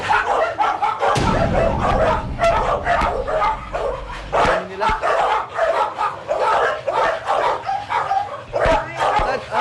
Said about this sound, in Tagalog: Di magkamayaw na tahol ng mga aso ang agad na sumalubong sa akin.